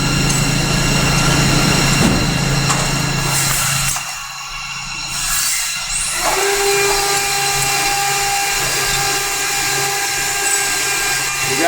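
Steady industrial grinding hum as the flat surface of a knife blade is ground in a factory in Prato, Italy, continuous and close, shifting to a higher whining tone partway through.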